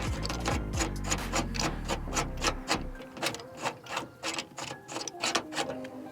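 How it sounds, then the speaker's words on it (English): Hand rivet nut tool squeezing a rivet nut into a hole in a 1992 Miata panel, a quick run of close, rhythmic ratcheting clicks and scraping strokes, with no voices heard. "place the rib nut in the hole, compress it,"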